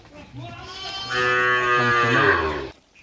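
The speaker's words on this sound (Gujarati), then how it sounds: "એ ગાય ને ભેહું આપણી છોડી મૂકી છે" A cow moos once, a long drawn-out low call rising in the middle, close and clear against a quiet background on a farm.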